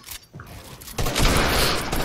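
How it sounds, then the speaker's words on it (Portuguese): Gunfire in a video game erupts after a brief quieter moment, a loud sustained burst of rapid shots and rattling reports that fills the rest of the stretch. "Olha o tiro!"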